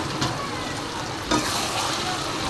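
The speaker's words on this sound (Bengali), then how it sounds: "সয়াবিনগুলো কষিয়ে নিই" Soybean chunks stir-fried in hot oil alongside boiled and fried potato pieces, giving a steady, close sizzle and crackle that runs throughout, with a brief louder burst of frying midway.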